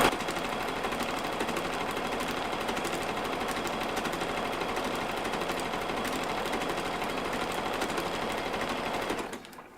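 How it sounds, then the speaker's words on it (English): A sewing machine runs a decorative stitch pattern in one continuous, steady mechanical whir lasting several seconds, close and even, before stopping abruptly. "press the button to make it sew the pattern for me"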